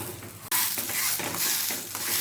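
Chicken meat pitha frying in oil in a pan, a brief scrape as it is turned over, then a loud, steady sizzle with crackling bursts and no talking.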